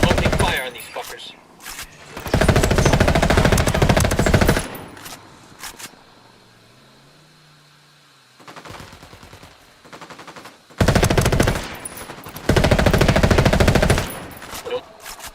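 Automatic weapon fire in Ghost Recon Wildlands: long, loud bursts of machine-gun fire, a quieter pause of a few seconds, then more sustained bursts, with voices briefly heard between the volleys.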